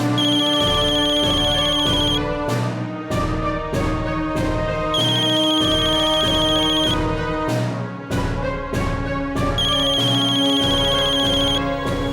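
A loud electronic ringtone melody plays repeatedly in looping phrases with short gaps, close and clear, with no one talking.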